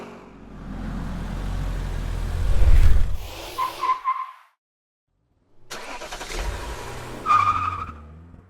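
A 1968 Dodge Charger's engine runs loud and close, rising in a heavy low rumble, then cutting out for a gap before starting up again with another surge.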